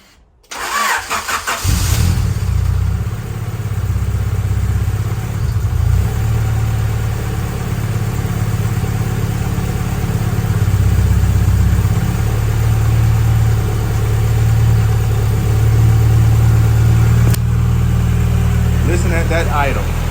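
A turbocharged Honda CB7 engine cranks and catches after a sharp start, then settles into a steady, loud, rumbling idle that holds throughout, with a brief voice near the end.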